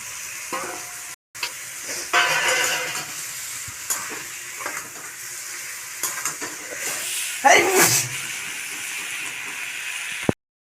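Shrimp going into a pan with ridge gourd and potato, frying with a steady close sizzle and hiss, broken by scraping stir strokes and a brief louder burst of spattering near the end.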